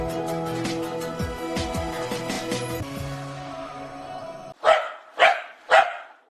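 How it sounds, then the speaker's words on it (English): Three sharp, loud dog barks come in quick succession near the end, each evenly spaced, after a stretch of musical backing. "Dog. Woof, woof."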